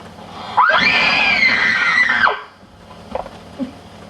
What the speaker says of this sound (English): And in the distance there was the most blood-curdling scream.